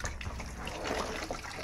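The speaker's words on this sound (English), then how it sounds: "Now you're going to wash it out back now and rinse it out thoroughly" Running tap water splashes steadily as a curass fish is rinsed in a Guyanese kitchen, a continuous close wash with no talk.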